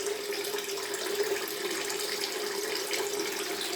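Water runs steadily from a tap to rinse out a Valet AutoStrop razor, a continuous close splashing hiss with no talk.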